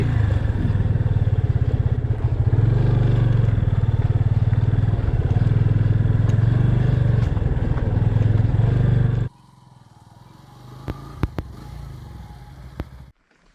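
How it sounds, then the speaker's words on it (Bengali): A motorcycle engine drones loudly and steadily for about nine seconds on the way to Biharinath, then cuts off, leaving quiet background with a few sharp clicks. "যতদূর বাইকে করে যাওয়া যায় ততদূর বাইকটাকে নিয়ে যাই"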